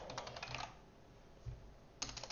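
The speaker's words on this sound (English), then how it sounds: "I am not good on the typing today." Computer keyboard typing in two short bursts of rapid, close clicks with a quiet gap between them.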